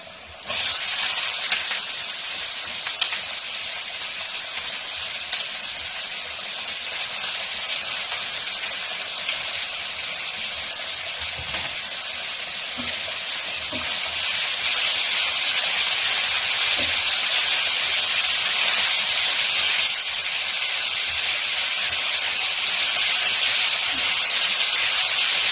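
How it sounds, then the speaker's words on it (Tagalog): Bitter gourd (ampalaya) stir-frying in a hot pan, giving a loud, steady hiss and sizzle that runs unbroken throughout and grows slightly stronger partway through, with no voices over it. "Ngayon ay ilalagay na natin ang ampalaya"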